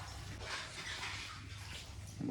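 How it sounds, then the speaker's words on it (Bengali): Water runs from a tap into a container at home in the early morning, a soft, steady rushing hiss heard at a distance, ending with a brief louder knock. "মা এখানে জল ভরছে"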